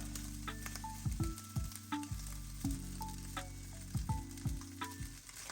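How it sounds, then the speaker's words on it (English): Rice, egg and spring onion fry in a hot pan with a steady sizzle, broken by repeated scraping and stirring clacks of a utensil against the pan, close and clear with no talking. "Then I'm going to mix the spring onion and the eggs together and add in my rice."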